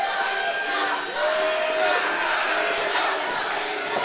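A wrestling crowd at an indoor event roars and cheers in a steady, loud wash of voices, with a commentator talking over it.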